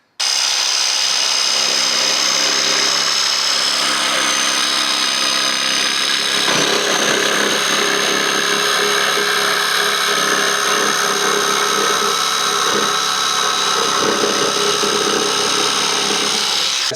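A cheaper alternative to a DeWalt power saw cutting with its blower feature switched on, a steady loud motor whine and cutting noise running continuously from start to finish with no talk.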